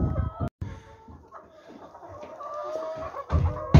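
Chickens clucking inside a coop, a scattered run of clucks and squawks with a clear call near the end, close by, with brief rustling and handling noise at the start.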